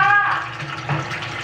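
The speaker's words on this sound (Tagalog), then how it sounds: "Yan, umaapaw na." A water tank overflows, and water splashes and gushes steadily, with a short tonal whine at the start before the pouring dominates.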